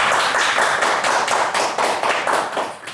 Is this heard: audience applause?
yes